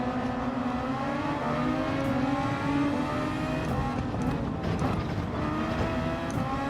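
Super Formula race car engines at Spa-Francorchamps in Gran Turismo 7 VR, a sustained loud high-pitched engine whine with a rival car droning close alongside, steady throughout with no talk.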